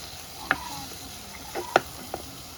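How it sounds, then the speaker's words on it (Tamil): Tomatoes sautéing in a pan, a soft steady sizzle under a few distinct clinks of a spoon against the pan, two louder taps close together and one lighter one after. "தக்காளி பழத்தையும் போட்டு நம்ம வதக்குவோம்."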